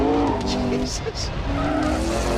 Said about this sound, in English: It's spinning its wheels in sixth!